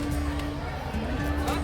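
Dense crowd hubbub at Sassoon Dock, Mumbai's 150-year-old fish market, a steady wash of many voices and bustle close around, with a low constant hum running underneath.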